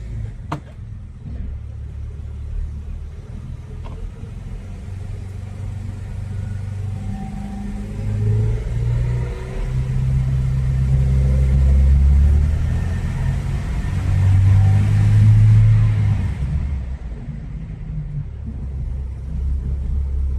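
A car cruising in third gear at about 40 km/h, its engine a steady low rumble with the drone swelling slightly in the middle, no voices.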